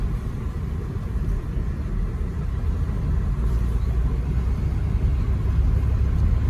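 Engine of a broken-down Chevy Impala running steadily as the automatic transmission moves up through its gears, a continuous close low rumble with no clear separate shift points and no talking.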